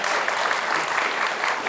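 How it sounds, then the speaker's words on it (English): Spectators at a junior high school quiz competition clap for both teams after the first round, a dense, even burst of applause from a modest crowd with no talking over it. "Can we have a round of applause for both teams doing a great job?"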